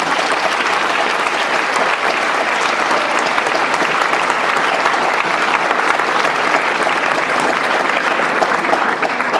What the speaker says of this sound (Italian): vi chiedo la cortesia di esprimere con un applauso un ringraziamento per il loro lavoro